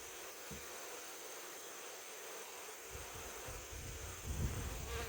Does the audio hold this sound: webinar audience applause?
no